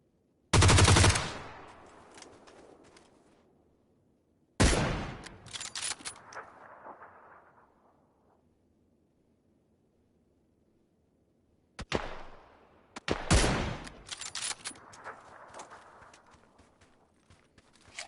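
G36 rifle fire in PUBG: three separate loud bursts of rapid automatic shots, each cutting off into a fading echo and quiet, the last burst broken into several short strings.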